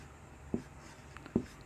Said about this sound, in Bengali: আমিও বোর্ডে লিখব, তোমরাও খাতায় লিখে মিলিয়ে নাও।